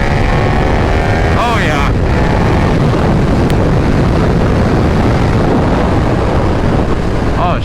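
A 2022 KTM 1290 Super Duke R engine roars hard and loud through constant wind rush, bouncing off its rev limiter with a couple of rising and falling revs as the rider speaks briefly.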